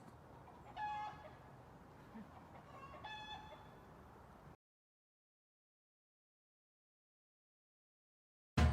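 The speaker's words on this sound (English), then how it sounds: "A few more rooster sounds near the beginning of the trail." Two rooster crows rise out of steady outdoor background noise near the start of a trail in Arcata Community Forest, a few seconds apart and fairly distant, followed by silence and a brief loud burst at the end.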